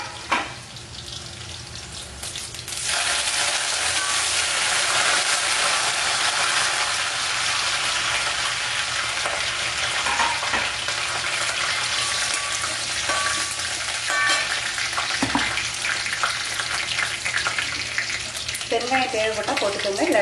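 Mustard seeds, urad dal, dried red chili and garlic tempering in hot oil for a Chettinad chutney: a strong steady crackling sizzle starting after a few seconds and running on, with a bit of clatter near the end.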